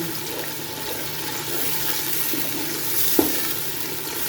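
Constant hissing sizzle of ginger, garlic and chili paste frying in hot oil, with a faint clink near the end and no voices.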